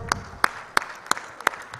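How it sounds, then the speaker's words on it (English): Applause at a live delegates' event on a stage: sparse, evenly spaced sharp claps, only a few hands audible, quiet and brief rather than a full crowd. "A big round of applause."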